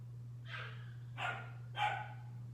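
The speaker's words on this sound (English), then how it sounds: "The dogs are just freaking out there." Dogs bark outdoors in three separate bursts, each a little louder than the one before, over a steady low electrical hum.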